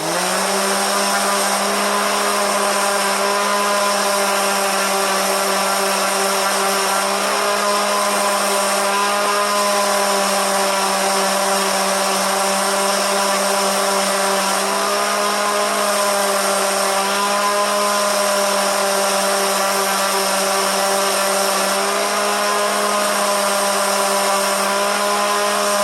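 A power saw runs loud and steady, close by, with a constant high motor whine and no pauses, as a wooden Halloween lantern box is trimmed in a workshop.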